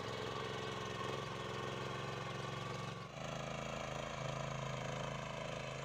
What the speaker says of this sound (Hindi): तो ये देखिए पूरा मिट्टी करते हुए फीडर आगे बढ़ रहा है, मिट्टी बनाते हुए और घास को मिलाते हुए